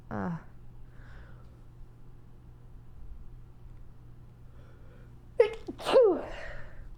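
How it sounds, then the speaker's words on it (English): A single sharp sneeze near the end, preceded by a quick inhale, after several seconds of quiet room hum and a brief vocal sound at the start. "I have to sneeze."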